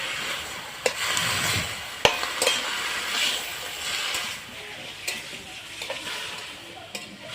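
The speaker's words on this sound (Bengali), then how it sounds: "হলুদটা পরিমাণ মতন দিয়ে দেবো এখন আমি কষিয়ে নেব" Spinach and turmeric are sautéed in a pan, with a continuous moderate sizzle and the sharp scrapes and taps of a spatula stirring the greens at irregular intervals.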